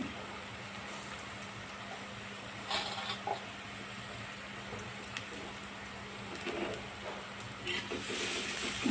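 Radish and radish leaves sauté in a pan with a steady low sizzle and hiss, broken by a few soft scrapes and clatters from stirring.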